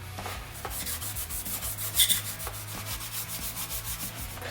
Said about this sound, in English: Now it's time to clean the mating surfaces of the block and cylinder head. I just like to use some Scotch-Brite pad right here.